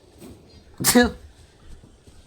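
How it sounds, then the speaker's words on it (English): A single sharp sneeze from a person bursts out loud and close near the middle, with quiet background around it. "I'm gonna sneeze."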